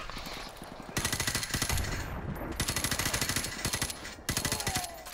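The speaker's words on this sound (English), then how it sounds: "Stop shooting at me." Rapid automatic gunfire from Call of Duty Remastered's campaign, bursts of fast rhythmic shots starting about a second in, pausing briefly near four seconds and then resuming, loud and close over a noisy battlefield backdrop.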